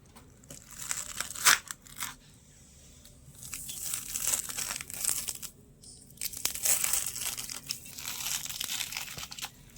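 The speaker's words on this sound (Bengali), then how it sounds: "এবারে চলুন তালের কাঠটা আমি একটু ছাড়িয়ে নেবো" Hard skin of a ripe palm fruit being peeled by hand, with close crackling, tearing and crunching in irregular bursts separated by short pauses, and no talking.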